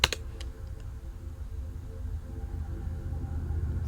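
Keys clatter on a computer keyboard in a quick run of light clicks close by, then settle into a faint steady hum of a quiet room.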